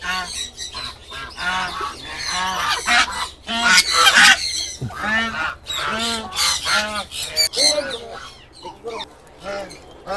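Ducks and Chinese geese at a home poultry pen honk loudly and repeatedly at close range, their harsh calls overlapping in quick bursts with brief pauses.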